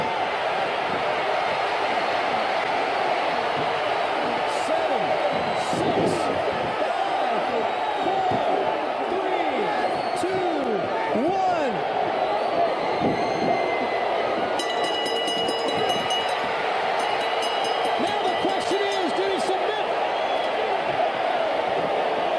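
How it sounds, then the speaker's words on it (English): Electrified wrestling crowd at Great American Bash 88 in Baltimore during a tag team match, a constant loud roar of cheering with thuds from the ring and commentary running over it. "This crowd here is electrified."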